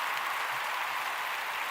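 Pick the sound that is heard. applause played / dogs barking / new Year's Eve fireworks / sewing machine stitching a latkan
applause played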